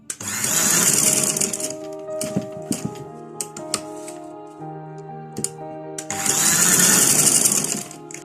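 Sewing machine running in two long bursts while stitching a kurta along a cut buckram shape, with quieter clicks and handling of the fabric in between.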